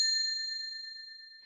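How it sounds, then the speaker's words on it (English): A small bell above a cafe door gives a single clear chime that rings on as a steady, slowly fading tone, quiet and alone. "The small bell above the cafe door chimed"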